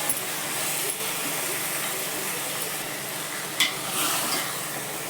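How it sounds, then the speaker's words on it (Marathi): Coriander-cumin powder and a spoonful of turmeric being sautéed in oil for a spicy mutton curry give a steady, even sizzle and frying hiss, with a couple of brief sharper stirring knocks. A person talks over the frying. "धने जिऱ्याची पावडर घालते चमचाभर हळद घालते चांगलं परतू देते मी"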